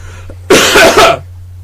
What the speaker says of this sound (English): I'm just going to horrendously cough over everything that you say